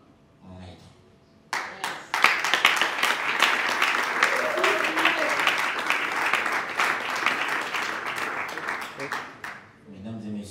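Audience at an award ceremony breaks into loud, sustained applause after a short stretch of quiet talk, the dense clapping holding steady for about eight seconds before tapering off as a voice returns.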